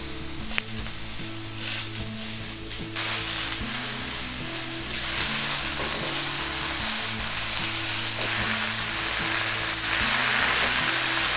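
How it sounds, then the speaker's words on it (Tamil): Keerai spinach sautéing in a hot pan for a curry, a loud continuous sizzle and crackle that swells as the leaves go in, with a low hum underneath and no speech. "இப்போ வந்து நம்ம ரெடி பண்ணி வச்சுருக்க கீரையை போட்டு வதக்கலாம்"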